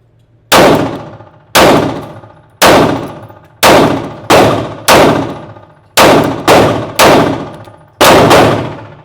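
Loud handgun shots at an outdoor shooting range, about ten sharp reports fired one at a time at an uneven pace, each with a ringing decay, and no talk between them.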